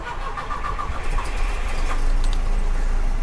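A Volvo wagon with a manual gearbox cranks and fires up, the engine catching and settling into a steady, fairly loud run close by, with no talk over it.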